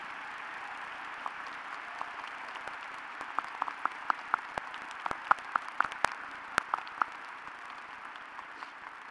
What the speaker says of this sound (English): Will the audience please join me in applauding our School of Medicine faculty and administration?